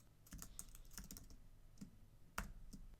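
Keys clatter on a computer keyboard in a quick, uneven run of quiet clicks, close by and faint, with one slightly louder keystroke near the end.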